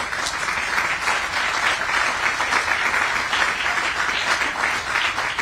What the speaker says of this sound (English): Jennifer, you and Randy and Gene deserve a big round of applause